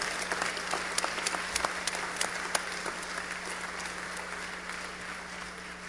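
An audience at an Emmy awards ceremony applauds steadily, a dense wash of many hands clapping with a few sharper claps standing out, fading slightly toward the end.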